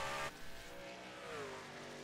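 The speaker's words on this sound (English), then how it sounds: "And Grunberg downshifts again." A race truck on the New Hampshire oval in iRacing downshifts, its engine note dropping then climbing again in a whining pitch sweep, fairly faint and alone without voices.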